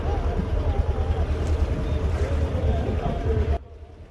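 A fishing trawler stuck on a sandbank in the Sundarbans drones with a steady low engine rumble and wind noise, with people talking over it, until the sound cuts off sharply near the end.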